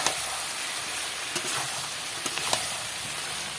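Jackfruit with turmeric is stir-fried in a pan, a dense, steady hiss of sizzling oil with a few quick clicks and scrapes of the spoon.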